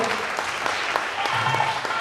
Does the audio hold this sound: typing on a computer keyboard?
no